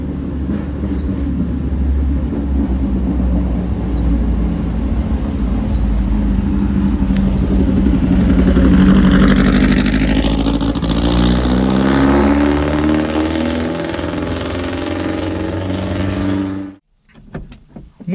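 A car engine revs loudly and steadily for a long stretch, rising in pitch midway then settling, ending abruptly.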